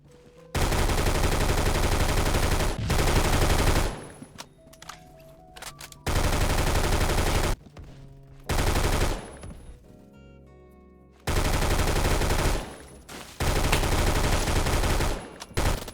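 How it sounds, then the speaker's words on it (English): Bursts of L85A3 rifle fire in the Phantom Forces video game, loud rapid automatic volleys starting and stopping several times, with quieter gaps of game ambience and mechanical clatter between them. "The first gun that I'm going to be talking about, which is actually new, is the L85A3."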